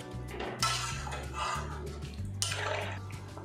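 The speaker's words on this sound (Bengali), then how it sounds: "এবারে এর মধ্যে দিয়ে দেবো জল।" Water is poured into a pan of cooking ridge gourd, potato and chana dal, making a continuous splashing gush with faint clinks of metal against the pan.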